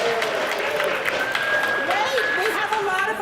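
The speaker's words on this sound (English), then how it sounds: "we have a lot of applause coming" A crowd at a baseball season-opening tribute event applauds, a dense, sustained clapping wash with cheering and whistles, under a voice speaking over it.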